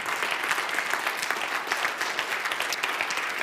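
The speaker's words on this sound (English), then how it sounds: "For now, give yourself a round of applause." A round of applause, steady dense clapping from a group, moderately loud and continuous throughout with no talking on top.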